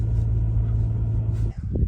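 BMW E39 car driving on a muddy gravel road, heard as a steady, close low rumble from inside the car that gives way to a few uneven thumps near the end.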